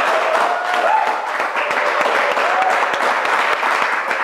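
A studio audience at a TV show breaks into loud, sustained applause, many hands clapping close and steady with a couple of brief whistles rising above it.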